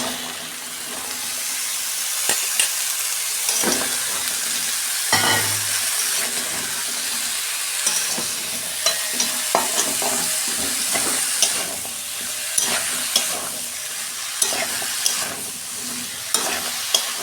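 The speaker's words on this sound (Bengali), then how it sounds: "এই যে মশলাটা আমার ভাজা হয়ে গেছে, আমি লাউটা দিয়ে দিচ্ছি।" Bottle gourd goes into a pan of fried spices, and a steady sizzle follows with repeated sharp spatula clinks and scraping as it is stirred, without any talk.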